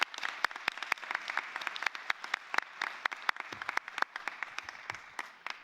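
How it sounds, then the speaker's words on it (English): A room full of people clapping, steady and sustained applause with sharp individual claps standing out, no talking over it. "give everybody a big round of applause"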